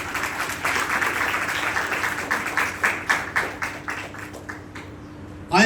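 A church congregation claps loudly during a sermon, a dense burst of applause that thins into scattered individual claps and fades out before a sound at the very end.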